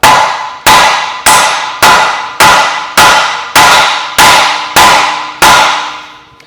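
Ten evenly spaced, loud hammer blows strike a part during engine removal on a Kia Sedona Carnival, each a sharp metallic crack followed by a ringing decay, with no voices.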